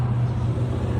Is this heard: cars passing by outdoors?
yes